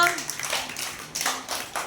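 Children playing a fruit-names game clap in a few scattered bursts after a short spoken word at the start, the claps soft to moderate and close by.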